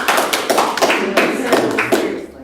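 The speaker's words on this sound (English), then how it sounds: "I wanted to give you guys like a round of applause for that." Applause at a school board meeting, a small group clapping loudly and close for a couple of seconds with uneven, irregular hand claps, no voices over it.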